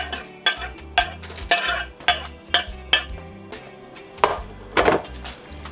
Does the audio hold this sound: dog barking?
no